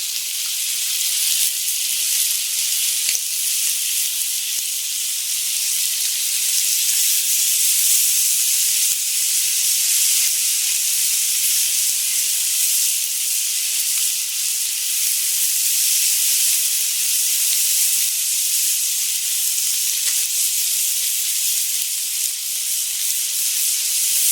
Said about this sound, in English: Now I'm going to start basting them.